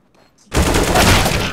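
Gunshots in the video game CS:GO burst in after a near-silent start, a loud sustained volley of rapid fire lasting over a second, close up with no voices.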